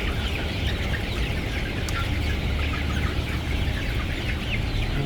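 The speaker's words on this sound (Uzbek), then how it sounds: "tuxum yo'nalishidagi jo'jalar o'rtoqlar, tovuq fabrika fermalardagi tovuqlarda zotida" Egg-laying breed chicks in a poultry house chirp continuously in a dense, steady chorus, with a constant rush of running ventilation fans beneath them.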